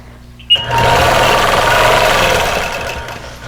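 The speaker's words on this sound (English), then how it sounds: "I'm going to anchor my stitches and just" A sewing machine stitches a quilted Dresden Plate table runner, starting suddenly with a click and then running as a loud, steady, close whir for about three seconds before slowing, with no talking.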